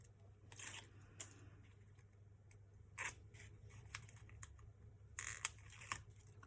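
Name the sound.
scissors snipping foam tape, peeling off backing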